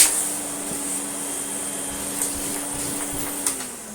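An Electrolux Slimline 185 Electronic vacuum cleaner, restored after repair and fitted with a hose, runs with a steady, close whoosh and hum, a few faint knocks over the constant motor drone.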